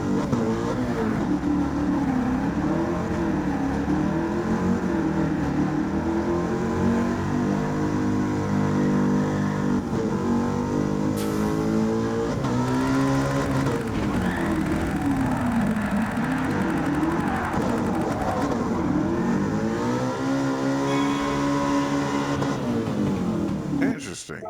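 A car in Gran Turismo 7 runs at full throttle, its engine droning loud and continuous with pitch rising and falling through gear changes across the whole stretch, while a person talks over it.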